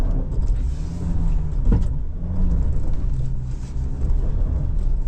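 A 2025 Ford Ranger Stormtrak PHEV grinds up a steep hill with some wheel spin, its low, steady rumble of drivetrain and tyres continuous and close throughout, with no talking.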